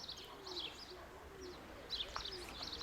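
A pigeon outdoors gives faint, soft calls amid light bird chirps in a quiet open space, the sounds distant and low against gentle background noise.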